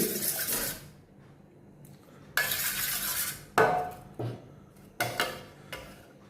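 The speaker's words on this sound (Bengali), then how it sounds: "ডিমটাকে ফেটিয়ে নিচ্ছি।" Eggs beaten in a bowl with a utensil, several separate bursts of brisk clinking and scraping against the bowl, separated by short pauses, close and moderately quiet.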